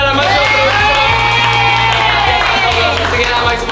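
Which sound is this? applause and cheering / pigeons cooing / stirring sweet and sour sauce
applause and cheering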